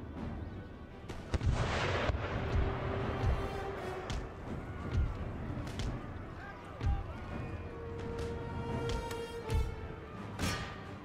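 Artillery in the strategy game Empire: Total War booms repeatedly in irregular heavy blasts with rumbling tails, mid-distance battle sounds layered over a faint voice.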